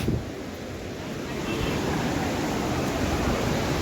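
The Mandakini river rushes along a rainy Himalayan trek route near Kedarnath, a steady, broad roar of fast water filling the scene at constant loudness with no clear voices.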